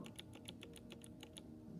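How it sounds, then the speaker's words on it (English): Keystrokes on a Royal Kludge RK61 keyboard, a quick even run of about a dozen light clacking presses, close and quiet, with no talking. "Okay, the sound is spacebar."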